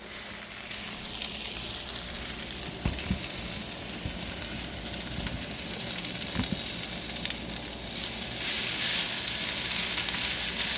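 Food sizzles and crackles steadily in a hot pan, with a few soft clicks of utensils and the frying growing a little louder near the end.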